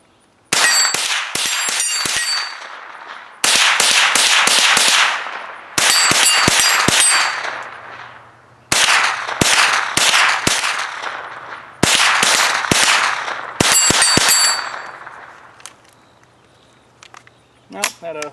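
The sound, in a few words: Ruger 10/22 rifle shots hitting targets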